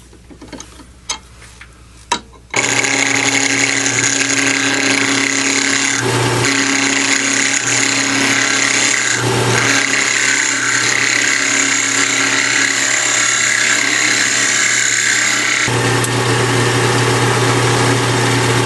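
A wood lathe spins a maple blank while a tenon is turned, a steady loud machine drone with continuous scraping and rubbing of the tool on wood, after a few brief knocks at the start.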